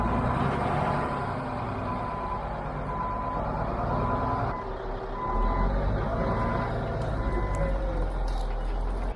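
A truck drives and pushes across uneven ground, its engine rumbling steadily with rhythmic reversing beeps repeating throughout, heard nearby.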